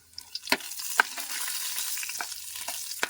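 Chana dal, urad dal and cumin seeds frying in oil in a pan, a close steady sizzle broken by several sharp clicks of stirring, with no talk.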